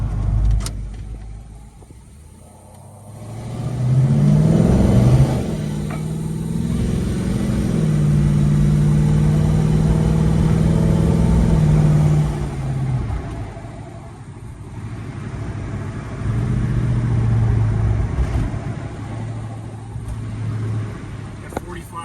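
A 1969 Chevelle SS cruises down the road, its engine rising into a low, rumbling drone that holds steady, eases off, then swells again at relaxed highway pace, with no voices in the clip.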